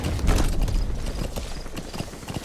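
Steady hoofbeats of a galloping horse, loud and close, with a thudding rhythm and faint mechanical clatter underneath, in the video game Metal Gear Solid V: The Phantom Pain.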